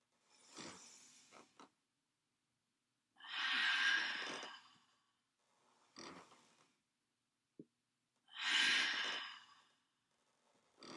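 Deep bellows breathing during a relaxation yoga session: long, loud, airy inhales and exhales alternating with quieter breaths and brief pauses, close and alone without talk.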